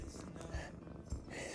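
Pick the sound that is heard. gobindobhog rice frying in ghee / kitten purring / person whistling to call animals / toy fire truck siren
kitten purring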